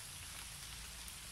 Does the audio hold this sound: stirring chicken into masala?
no